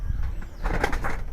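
Pigeons in a loft make soft, brief sounds close by, with wing flutters and faint cooing.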